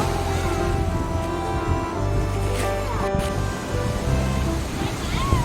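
Ocean waves break and wash on a beach in a continuous roar of surf, with wind buffeting the microphone.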